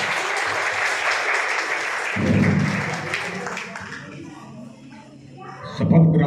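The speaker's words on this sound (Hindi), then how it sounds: "तालियों से स्वागत करिए सर का।" An audience at a nursing college oath-taking ceremony applauds to welcome a guest speaker; a thick burst of clapping settles into lighter, thinner claps, with murmuring voices underneath.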